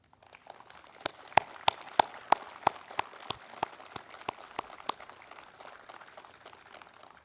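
Applause from an audience at a presidential address for Independence Movement Day, a scattering of distinct claps rising over a soft wash of clapping, fairly quiet and heard alone.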